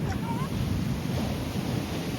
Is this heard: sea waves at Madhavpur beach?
yes